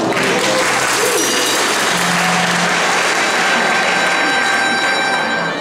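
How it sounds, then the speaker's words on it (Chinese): An audience claps continuously at a charity concert in a hospital setting, loud, dense applause filling the hall throughout with a few cheers mixed in. "给我们老师热情的掌声一下。"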